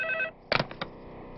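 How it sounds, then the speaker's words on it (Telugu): A telephone rings in a repeated electronic trill for about a quarter second, then stops abruptly, followed by brief faint clatter in an emotional Telugu movie scene. "ఏమయ్యో పిల్ల దగ్గర నుంచి ఫోన్ అనుకుంటా"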